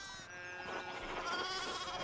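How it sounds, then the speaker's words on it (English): Sheep bleat in the medieval village of Pentiment, a cluster of nasal, wavering calls rising over a soft farmyard ambience for a couple of seconds. "we need to get these sheep under control"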